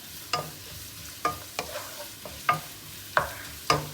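Ingredients for a dum biryani fry in oil in a pan, with about six sharp spatula scrapes and knocks at an irregular pace over a quieter steady sizzle, heard up close.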